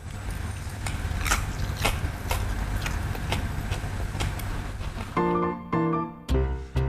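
Crisp, crunchy bites and chewing of thick crispy roast pork skin at a Hong Kong eatery, a steady run of sharp close-up crackles, followed by a few loud clattering knocks near the end.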